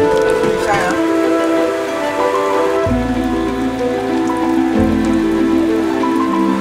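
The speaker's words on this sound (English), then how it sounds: "a thunderstorm looms in the northeast direction" Steady rain from a thunderstorm pours down near a fish farm, a loud continuous hiss mixed with a low background drone and a shift partway through. No one speaks.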